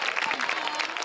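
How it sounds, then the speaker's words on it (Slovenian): An audience at an outdoor community event in Šentvid claps, a steady burst of crowd applause filling the short moment. "En aplavz, prosim."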